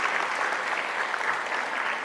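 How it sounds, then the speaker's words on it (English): Applause from an audience at a community awards ceremony, a steady, dense wash of clapping that holds evenly throughout without any voices standing out. "How about another round of applause for Dr."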